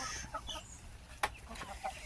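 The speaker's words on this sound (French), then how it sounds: "on va aller voir les cocottes" Hens clucking in a backyard flock, soft intermittent clucks and short calls near the listener with one sharper squawk midway, no talking.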